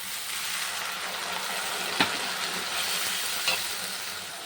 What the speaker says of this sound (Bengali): পেঁয়াজটা ভাজা হয়ে গেছে, এই মশলাটা দিয়ে দিলাম।